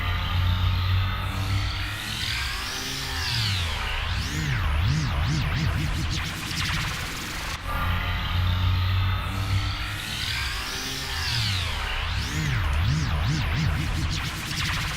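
A Sylenth1 synth effect with its frequency modulated from slow to full amount sweeps in wobbling, looping pitch swirls over a buzzy drone, the same pattern repeating twice, loud and alone.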